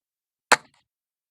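A Weihrauch air rifle fires a single pellet at a paintball, one sharp, close crack with a brief decay, surrounded by silence.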